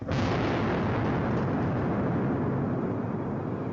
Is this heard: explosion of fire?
yes